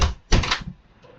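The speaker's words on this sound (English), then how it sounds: "Closing door." A door closing in a helicopter rescue video game: a single short thud-and-slam burst after a brief earlier knock, near and fairly loud, then fading to quiet, with no talk.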